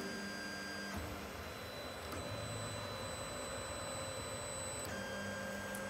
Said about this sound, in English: The printer will start.